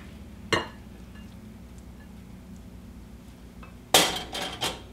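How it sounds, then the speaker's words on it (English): Mushroom risotto spooned into a bowl, with a single sharp clink of utensil on dish, a quiet pause, then a louder cluster of scraping, clattering knocks close by. "I'll just get some in a bowl here"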